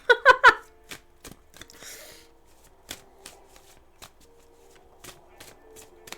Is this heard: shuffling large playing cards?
yes